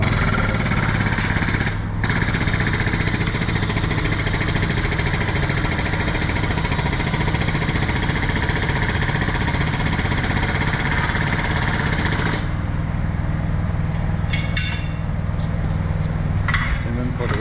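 A press breaks the tire bead off the rim of a tractor tire being fitted with new Michelin tires, a loud continuous mechanical grinding and hammering roar that keeps going with metallic clanks.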